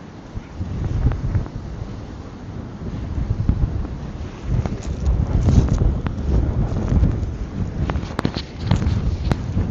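Strong coastal wind on Anglesey, Wales buffets the microphone in steady low rumbling gusts, with a faint wash of surf in the background and no talking.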